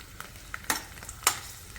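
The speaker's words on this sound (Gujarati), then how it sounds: "ઘી હવે ગરમ થઈ ગયું છે તો એમાં લસણ નાખી દઈશું અને આને થોડું ગોલ્ડન થાય ત્યાં સુધી તળી લઈશું" Garlic cloves fry in hot ghee, giving soft crackles and a few sharp spattering pops over a low, steady sizzle, with no talk.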